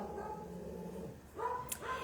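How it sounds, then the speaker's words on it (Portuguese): Dogs bark and yip at a distance, a few short, muffled barks and whines over a faint background hum. "Olha os cachorros."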